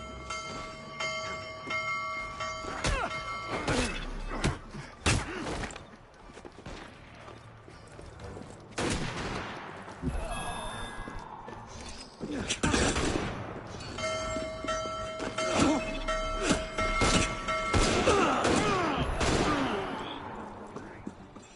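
Gunfire from snipers rings out in Assassin's Creed Unity, sharp cracks scattered irregularly over rumbling game ambience and music, with players talking over parts of it.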